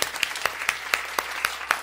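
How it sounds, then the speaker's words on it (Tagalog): A church congregation claps loudly in a steady rhythm, sharp regular bursts about every quarter second over a low room hum. "malakas sa palakpak para sa Panginoon"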